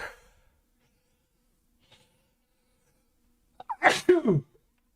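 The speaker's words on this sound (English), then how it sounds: "Oh man, I'm gonna sneeze." A single loud, close sneeze bursts out after a quiet pause, preceded by a sharp breath in.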